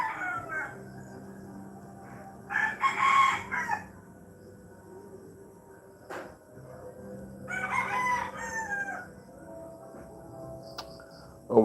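Rhode Island Red roosters crow twice in a backyard flock of laying hens in the Philippines, each crow loud and drawn out, separated by a pause over steady low background hum.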